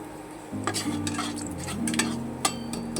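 Cloves, cinnamon and cardamom go into hot oil for tempering after the potatoes are fried, and a soft sizzle starts up with clinks of a spoon stirring against the pan, close by and without voices.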